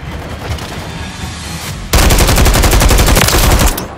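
Rapid automatic gunfire rattles in a hardcore team deathmatch in Call of Duty: Modern Warfare 3. Distant shots come first, then a loud, close burst of fast-repeating fire lasting about two seconds before cutting off.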